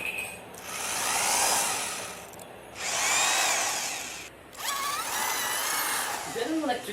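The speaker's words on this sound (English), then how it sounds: "Is that an electric drill?" An electric drill whines in three separate bursts, each rising and falling in pitch, with short gaps of quieter room sound between them.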